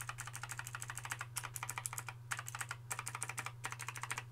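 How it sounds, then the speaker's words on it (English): Rapid typing on a mechanical keyboard with clicky Cherry MX Blue switches, crisp close keystrokes in quick bursts with brief pauses, over a low steady hum. "This is the Cherry MX Blue switches, so it's nice and clicky."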